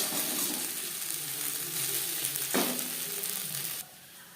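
Small mourola fish frying in hot oil in a home kitchen, a steady close sizzle with a brief stir or clatter midway before the crackle drops quieter near the end.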